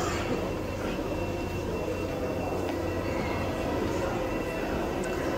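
A train in a Paris station makes a steady broadband rumble and rail noise throughout, with no clear rhythm. The sound is close and constant, and voices are faintly audible.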